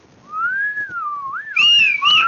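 A person whistles in imitation of a train whistle: a rising, wavering tone that slides and bends, then a louder, shriller two-tone passage at the end, close and alone.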